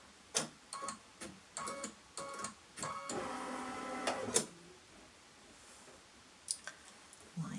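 A sewing machine stitching down a fabric piece gives a few short clicky runs, then a steadier whirring burst in the middle, followed by a quiet pause and a couple of final ticks, close and alone.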